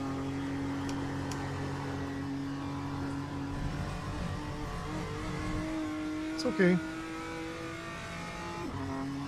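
Race car engine held on throttle in a racing simulator at Summit Point, a steady harmonic drone with a brief blip near the end, running under a voice.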